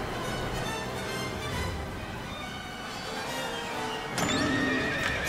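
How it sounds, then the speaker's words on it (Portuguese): Horses whinny and neigh during a cavalry charge in the battle game Nobunaga's Ambition: Awakening, with hoof clatter under a dense battlefield din and a sharp, louder neigh near the end. "Ó, esse cara usou charge de cavalo"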